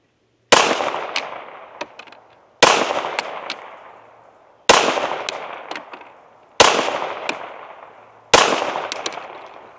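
Springfield Armory XD Mod 3 pistol firing SIG defensive ammunition, five loud, sharp shots spaced about two seconds apart, each with a lingering echo tail.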